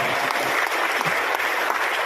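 Audience applauding a retired major general at a cooperative council inauguration ceremony, steady broadband clapping from a crowd throughout, with someone speaking over it.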